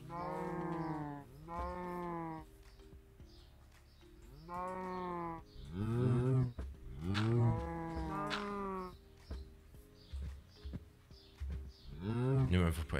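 Cows in the Minecraft game Sky Factory 4 moo repeatedly, with several drawn-out, fairly loud calls coming one after another in clear sequence.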